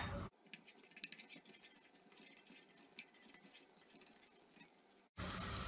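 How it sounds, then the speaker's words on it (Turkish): Diced onions sizzle in oil in a cooking pot, a soft, steady crackle and patter with small pops, faint and close, running alone before cutting off abruptly. "Soğanlarımızı biraz kavuralım."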